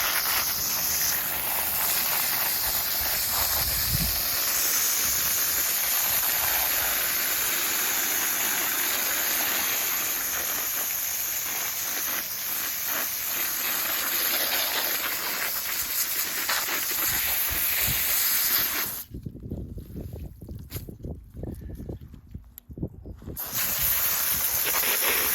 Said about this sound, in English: I just take the hose.